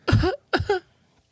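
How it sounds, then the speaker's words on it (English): Two loud, close coughs in quick succession, each a short harsh burst with a throaty tail, followed by quiet; someone hacking hard after drinking Calpico Original Flavor, a sweet Japanese soft drink. "I'm coughing up a lung over here."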